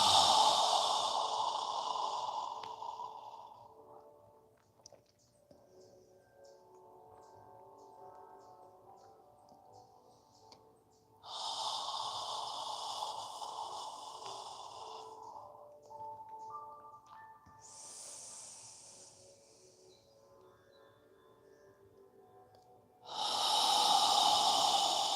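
Slow, audible breathing during a yoga session: long airy exhales through the mouth and softer inhales, close and steady, over quiet background tones, with no talking.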